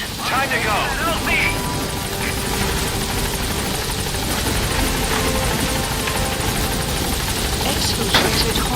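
In the Metal Gear Solid V video game, a support helicopter thumps loudly and steadily as it comes in to land at a landing zone, its rotor noise filling the scene while voices speak briefly over it.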